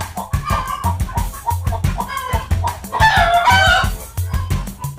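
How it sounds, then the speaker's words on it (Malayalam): Chickens cluck and call repeatedly nearby on a cattle farm, with one louder drawn-out rooster crow rising in the middle, over a busy farmyard background. "കോഴികളൊക്കെ ഉണ്ടല്ലോ അല്ലേ ആ കോഴികളൊക്കെ ഉണ്ട്"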